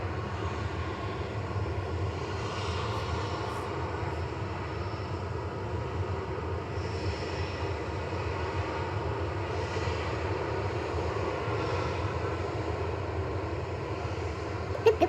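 Airliner engines roar steadily at Manchester Airport, a broad, continuous drone that stays loud and even throughout with no voices over it.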